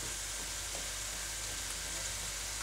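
Soft, constant sizzling of rabbit meat frying in a pan, a steady crackling hiss with no talking.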